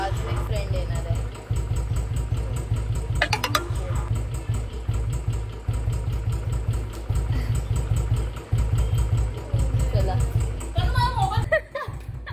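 A motorcycle left running at idle with a steady, chugging low engine note throughout, while people, including children, talk over it close by.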